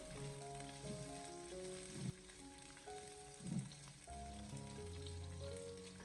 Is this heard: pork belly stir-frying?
yes